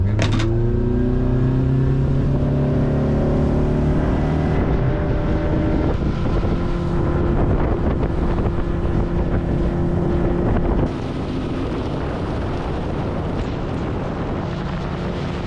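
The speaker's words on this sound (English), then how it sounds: "With the boat drifting on the water, we really felt a rush of adventure." Steady engine drone of a motorboat on Chenkulam Dam reservoir in Kerala with wind and water rush, loud and continuous, shifting slightly in pitch throughout.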